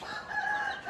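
Young native chickens and chicks clucking close by in a brief, continuous burst of fowl calls.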